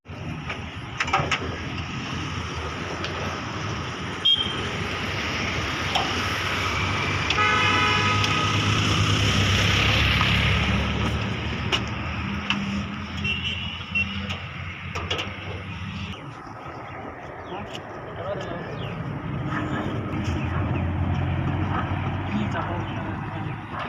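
A Mahindra Bolero pickup with a fault makes a loud, abnormal mechanical noise that drones on steadily for most of the stretch, swelling in the middle, with road and traffic sounds around it.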